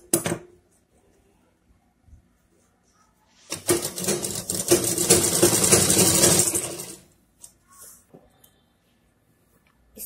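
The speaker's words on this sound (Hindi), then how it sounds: "पाइपिंग लगाने के बाद पीछे का जो पट्टी है उसे मोड़ के हेमिंग करनी है या फिर मशीन स्टिच डालनी है।" A sewing machine stitches a folded piping strip on a suit neckline in one loud, close burst of about three seconds, framed by quiet handling clicks before and after.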